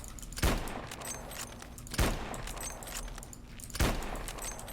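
A sniper rifle fires three sharp, booming shots about a second and a half apart in the video game Wrath of Anubis, over a steady background hum of game ambience.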